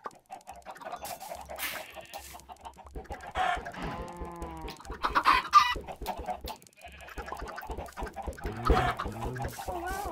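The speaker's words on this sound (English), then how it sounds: "There are a lot of chickens." Several Minecraft chickens cluck and squawk in short bursts, fairly close, with a low steady hum underneath and no talking.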